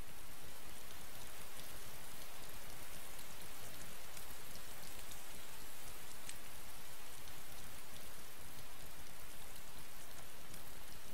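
Steady heavy rain falling on surfaces, a dense continuous hiss with scattered drop impacts, loud and unbroken with no talk.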